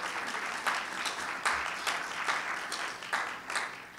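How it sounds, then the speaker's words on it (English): Applause from an audience at an outdoor Veterans Day ceremony, a faint, distant spread of clapping with a few louder hand claps standing out in a loose rhythm. "Let's give the lieutenant a big round of applause for that."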